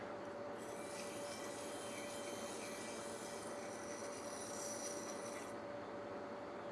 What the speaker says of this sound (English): Quick hit with the file on the ends here to just make sure there's no burr.